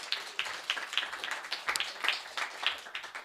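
A conference audience gives brief applause after a session segment, a moderate, steady patter of many hands clapping fairly close, with no talk over it.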